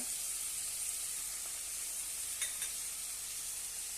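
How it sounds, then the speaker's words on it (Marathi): Pumpkin bhaji with turmeric, cumin and amchur powder sautéing in a pan, giving a steady soft sizzle throughout with a couple of faint stirring scrapes midway, no talking. "चवीनुसार मीठ आणि छानपैकी परतून घेऊया"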